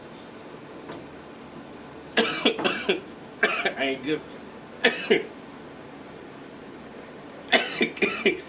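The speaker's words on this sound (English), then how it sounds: "If I can't stop coughing." Several harsh coughing fits in bursts, close by, with someone speaking briefly between them.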